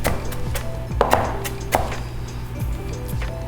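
A knife chops through a bunched handful of parsley on a cutting board in a quick, irregular series of close, crisp strikes, with no voices.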